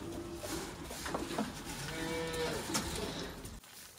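Cows on a Turkish family farm moo at milking time, with several long, drawn-out calls close by over steady barn background noise.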